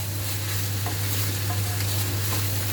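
Spices and chicken börek filling fry in a hot pan, giving a loud, continuous sizzle with faint scraping stirs and a steady low hum beneath it, and no voices.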